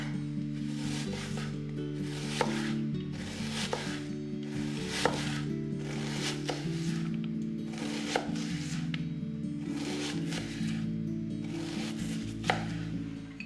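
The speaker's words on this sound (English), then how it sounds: "Chop a red onion into small pieces." A knife chops a red onion into small pieces on a cutting board, producing steady rhythmic taps and crunches close up, while quiet background music plays beneath.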